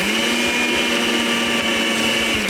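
Electric mixer blending flour into biscuit dough, a steady close motor whir held at an even pitch for the whole stretch without talking.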